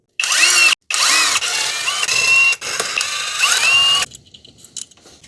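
A ratchet breaks loose T30 Torx bolts on a Mercedes M273 V8 in an E500. It gives several close, loud whirring zips with rising and falling whine, short gaps between them, then faint clinks at the end.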